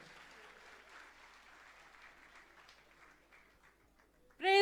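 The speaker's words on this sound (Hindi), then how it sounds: "आए हाथों को उठाकर जोरदार तालियों में" A church congregation at a Wednesday prayer service applauds softly and steadily, a faint, distant wash of clapping that fades before a voice cuts in loudly at the very end.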